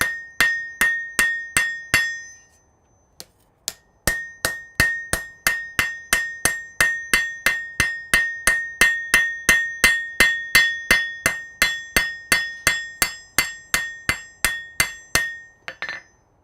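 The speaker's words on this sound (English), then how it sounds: "Let's do some flattening. Planishing, that is." A hammer planishes hot metal on an anvil in a smithy, sharp ringing strikes in a steady rhythm, each with a bright metallic ring, pausing briefly before resuming as a long even run of blows.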